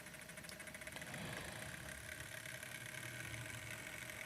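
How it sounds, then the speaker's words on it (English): A Hornby Gresley P2 model steam locomotive runs with a steady, close mechanical whir and hum from its motor and wheels, continuous and unbroken. "If I move the Prince of Wales further forward"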